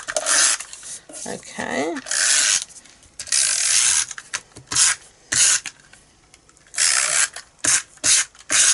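An adhesive tape runner lays glue onto embossed card for a stamped watercolour card, giving repeated close ratcheting, rasping bursts in quick strokes separated by short gaps, with a brief spoken word in between.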